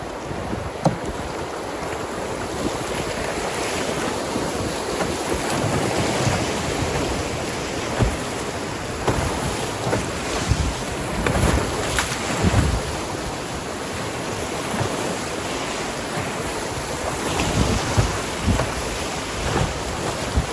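Whitewater rapids splash against a raft on a river trip in summer, a continuous rushing, churning roar with scattered louder splash bursts and wind buffeting the microphone throughout, no talk.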